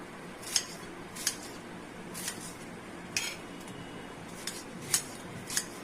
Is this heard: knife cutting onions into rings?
yes